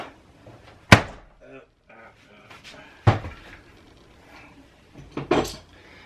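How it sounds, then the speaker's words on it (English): Sharp thunks and clunks as the door of a Samsung Flexwash washing machine is worked open during a teardown, three distinct loud knocks spaced apart with quieter handling rattles between them. "I'm gonna go ahead and let this door open up."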